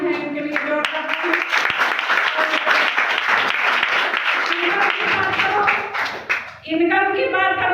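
Loud, dense applause fills a hall at a health awareness program welcome event, sustained for several seconds before tapering off as a voice resumes.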